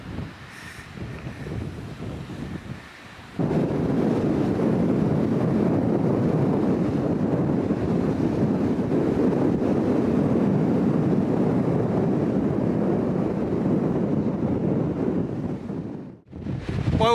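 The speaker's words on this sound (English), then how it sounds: "now the wind's behind us" Strong wind buffets the microphone on an open beach on the Isle of Harris in the Scottish Hebrides, a loud, steady roaring rumble that persists almost continuously, with a brief dip near the end.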